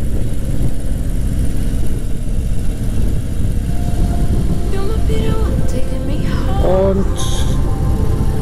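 A car engine running steadily while driving through the outskirts of Dortmund, a loud continuous low drone with road noise throughout and a few brief spoken words near the end.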